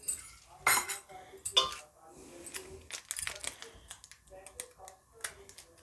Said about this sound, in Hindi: इसमें मैं एक चम्मच इनो डाल रही हूँ